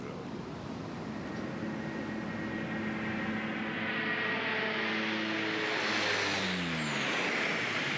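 A large aircraft flying low over the Arctic gives a steady, loud engine drone, with a whining tone that sweeps upward and falls away near the end.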